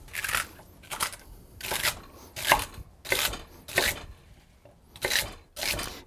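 A knife roughly chopping a clean leek on a cutting board for Italian pasta and bean soup, about eight crisp, uneven cuts with short pauses between them, close and fairly loud.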